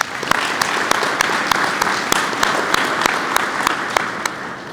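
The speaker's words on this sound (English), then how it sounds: "Let's give him and his staff a round of applause." Steady audience applause fills a ceremony hall at a criminal justice academy's meritorious service induction, a dense wash of many hands with a few sharper individual claps standing out, loud and continuous with no talking.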